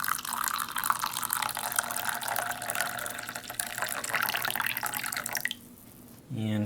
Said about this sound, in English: All right, hot water for the cider.